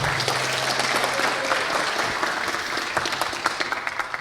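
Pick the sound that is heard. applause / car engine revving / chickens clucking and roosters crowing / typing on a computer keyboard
applause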